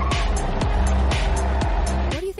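A YangWang U9 hypercar accelerates hard, its loud close motor whine rising in repeated sweeping pitch climbs, with a short burst of tire noise at the end.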